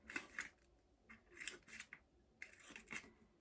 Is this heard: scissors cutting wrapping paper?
yes